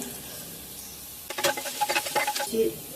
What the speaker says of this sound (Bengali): গ্যাসটা একেবারে লো ফ্লেমে দিলাম সর্ষে চিমটে হিং কুচনো আদা সামান্য একটু গোটা জিরে